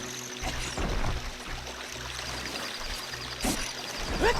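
River water flows steadily in Zelda: Ocarina of Time, a continuous rushing wash with faint game tones mixed underneath.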